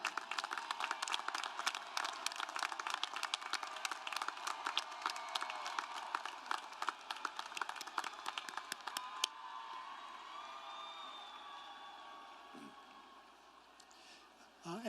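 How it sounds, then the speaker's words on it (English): Crowd applause for departmental undergraduate award winners at a university commencement ceremony, dense clapping with scattered whoops that thins out and fades after about nine seconds, with murmuring voices underneath. "Let's give them a round of applause."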